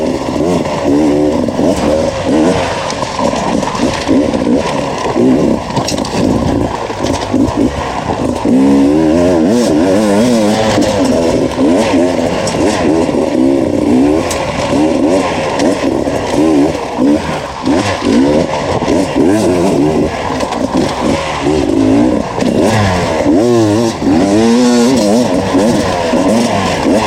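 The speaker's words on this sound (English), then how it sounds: "the first bike I got to test was the two-stroke" A Beta 2019 two-stroke 300 enduro motorcycle rides hard, its crackling, buzzy engine revving up and down loudly and continuously, with constant throttle changes throughout.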